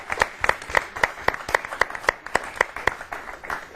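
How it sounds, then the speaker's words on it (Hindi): Rhythmic clapping in honour of poets in a studio, sharp, evenly spaced claps in unison, like a small audience clapping together in time, fairly close. "एक बार जोरदार तालियां हमारे इन कवियों के सम्मान में"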